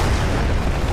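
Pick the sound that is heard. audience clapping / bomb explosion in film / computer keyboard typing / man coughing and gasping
bomb explosion in film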